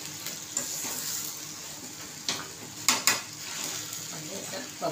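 Eggplant and potato pieces sautéing in oil for a Maharashtrian vangi batata sabzi, a steady close sizzle broken by several scraping stirs and light clinks of a utensil against the pan, no talking.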